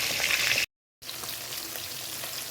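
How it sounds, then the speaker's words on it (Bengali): Fish fries in hot oil with a soft, crackling sizzle. The sound is fairly faint and broken by a brief gap of silence. "আর এদিকে ভাজা হচ্ছে মাছ"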